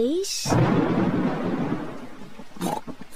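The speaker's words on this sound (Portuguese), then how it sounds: "o barulho do trovão está muito alto" Cartoon thunder during a rainstorm rumbles loudly, a deep rolling crash that swells and fades over a couple of seconds, framed by brief cartoon sound effects and faint rain.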